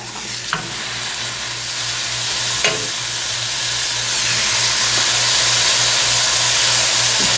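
Ground pork frying in a hot pan, a steady loud sizzle with occasional stirring scrapes, building slightly in intensity and continuing without talk.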